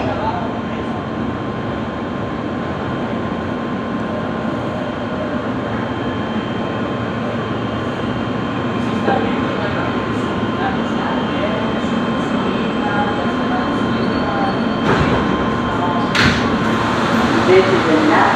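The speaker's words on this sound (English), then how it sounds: "This is the Nassau Avenue G local train." An R160 G local subway train running toward Nassau Avenue makes a steady rumbling ride noise with air conditioning hum and occasional clanks, while an announcement plays over it.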